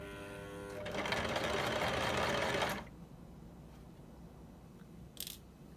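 A ZEN ZN1101 sewing machine stitches fabric in a close, steady whirring run of about two seconds, then stops, leaving quiet room tone and a brief click.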